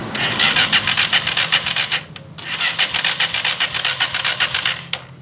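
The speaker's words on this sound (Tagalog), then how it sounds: "issue ayaw umaandar naman siya, nagre-redondo, kaso ayaw tumuloy ng kanyang starter" Honda TMX Alpha 125 motorcycle with a starter fault, its engine cranking in fast rhythmic churning pulses, near and loud, pausing briefly and cranking again without catching.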